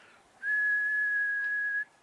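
Someone whistles one long sustained pitch lasting well over a second, clean and up close against a quiet room.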